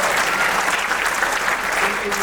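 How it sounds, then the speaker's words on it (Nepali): Loud, sustained applause from an audience honouring a journalism award recipient at a ceremony in Nepal, steady dense clapping throughout. "एकपटक जोरदार तालीले सम्मान गर्नुहोस्"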